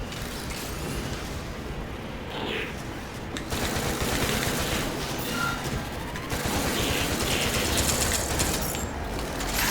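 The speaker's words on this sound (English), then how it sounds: "I do have double machine guns" Double machine guns fire continuously in the Stormland VR game, a dense, steady mechanical rattle that runs the whole time and swells louder toward the end.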